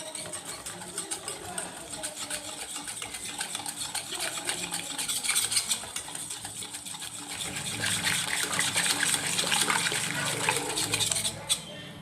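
Wet, rhythmic scraping and slopping of semolina dhokla batter being stirred with soda and oil, continuous and close, growing louder toward the end.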